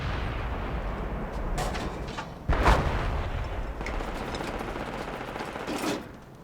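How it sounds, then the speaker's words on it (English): Heavy booming cannon fire from the game Project Reality, fired from a rooftop, with a loud blast near the middle over continuous rumbling battle noise and scattered shots. "he ends up killing that entire squad with this cannon up on the roof"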